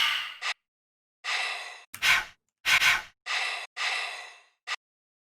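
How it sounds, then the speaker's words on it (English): A run of breath noise samples for a drum beat: sighs, gasps and short sharp breaths, a few with a low thump, played one after another with brief silences between them. "I have these breath noises as well that I might try and incorporate into the drum beat."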